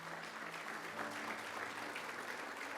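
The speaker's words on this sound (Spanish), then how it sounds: "Aplaudámosle al Señor" A church congregation applauds together, a continuous wash of clapping held at a steady, moderate distance throughout.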